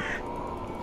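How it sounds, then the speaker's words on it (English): Crows cawing in the dark adventure video game The Last Door, a brief, rough caw over a steady background hum. "Are the crows gone?"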